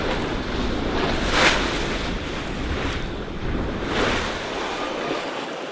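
Out at sea on a sailboat in the middle of the Pacific, wind buffets the deck while waves wash and surge past the hull in broad swells, loud and continuous with no voices.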